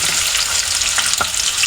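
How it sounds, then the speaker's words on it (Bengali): Chopped onion frying in hot oil in a wok for shahi chicken biryani: a dense, steady close-up sizzle with faint crackles and a couple of brief stirring scrapes. "লালচে হওয়া পর্যন্ত পেঁয়াজটাকে একটু ভেজে নিচ্ছি।"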